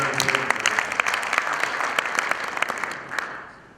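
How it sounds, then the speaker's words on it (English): Full audience applause for a speaker at a faecal sludge management conference session on treatment for resource recovery, many hands clapping steadily, then tapering off toward the end. "please give another applause to Arthur"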